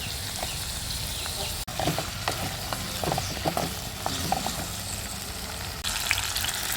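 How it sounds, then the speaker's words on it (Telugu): Fresh garden green chilies fry in hot oil in a pan, giving a steady, fairly close sizzle with scattered crackles and pops from stirring throughout. "బాగా ఫ్రై చేసుకోవాలండి."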